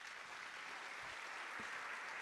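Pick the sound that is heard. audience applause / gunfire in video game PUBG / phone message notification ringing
audience applause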